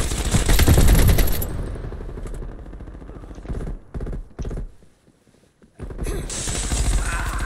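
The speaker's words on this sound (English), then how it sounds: "Why my M60 not getting one shot burst?" M60 machine gun firing in Call of Duty Cold War, with a long loud burst at the start, then scattered short shots and a near-silent gap before heavy fire resumes at the end.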